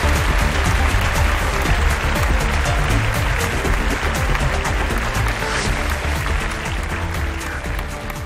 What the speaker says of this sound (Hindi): जोरदार तालियों से स्वागत कीजिए सर।